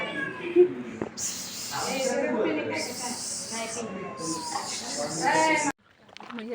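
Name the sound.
cat meowing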